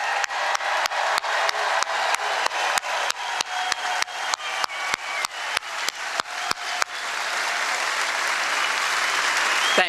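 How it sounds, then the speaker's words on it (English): Sustained applause from a crowd at a Donald Trump rally, dense clapping that carries on steadily, with some sharp individual claps near the start. "let's give them a roaring sound of applause."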